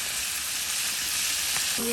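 Fish frying in a pan gives a close, steady hiss of hot oil that holds constant throughout, with a faint tonal whine appearing briefly near the end and no voices.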